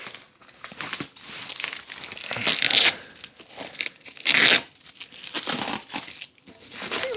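A packaged car part for an Alfa Romeo Mito Cloverleaf, wrapped with tape in many directions, is pulled open in loud, close bursts of crinkling wrapping and sharp tape tearing, with brief pauses between.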